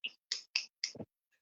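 Four or five sharp, separate finger snaps in an uneven rhythm, close and clean against silence, with a fainter final snap at the end, heard during a small business network livestream.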